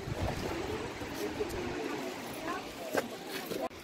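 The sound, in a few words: Thoseghar waterfall water flowing, Satara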